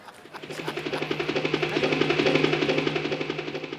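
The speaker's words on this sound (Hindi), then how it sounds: "हेलीकॉप्टर की आवाज" A helicopter's rotor thumps in a fast, even beat that grows louder as it approaches, close and steady over several seconds.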